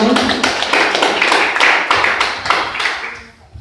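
A church congregation claps for the Lord in a quick, uneven burst of hand claps close by. The clapping thins out toward the end.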